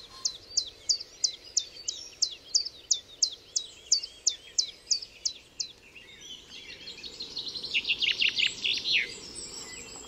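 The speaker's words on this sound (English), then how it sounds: "Blackcap singing now over in the woodland." A blackcap sings a rapid series of bright, repeated chirping phrases from woodland, then a fuller warbling burst follows, clear against a quiet outdoor background.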